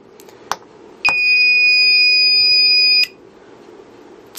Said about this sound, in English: So that's what the alarm sounds like on full wave rectified current.